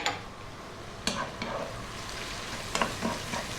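Red chilies, slit and with seeds kept in, stir-fry over lively heat in a wok, producing a steady close sizzle broken by a few sharp scraping stirs and clinks, with no talking.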